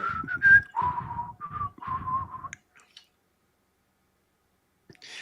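A person whistles a tune alone, a clear, close melodic phrase for about two and a half seconds, then stops, leaving near silence broken by a couple of faint clicks.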